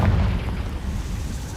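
A Confringo fire spell bursts in Hogwarts Legacy, a dense booming explosion with heavy low rumble that stays loud and rolls on without pause for over a second.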